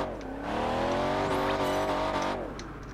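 A car engine in Project Gotham Racing 4, a video game, revs steadily at high pitch, holding a loud sustained whine before easing slightly near the end.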